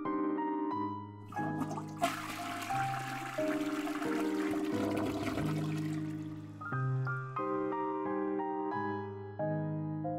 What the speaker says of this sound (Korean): 조금 있으니 변기물이 혼자 두어 번 내려가더군요